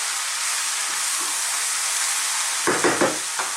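Spinach and mushrooms sizzle steadily in a hot pan, a constant bright hiss of frying, then a few quick scraping stirs near the end break through the sizzle.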